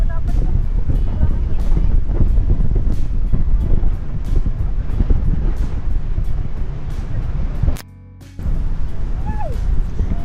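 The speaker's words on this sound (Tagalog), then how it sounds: "It's really, you know, mahangin." Strong beach wind buffets the microphone in a constant roar with surf-like rumble underneath, dropping out for a moment before blowing hard again.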